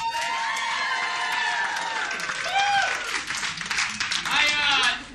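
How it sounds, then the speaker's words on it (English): Audience applause at a small theater, a loud mix of clapping, cheering and whoops with excited shouting voices rising and falling throughout. "So give yourselves a round of applause."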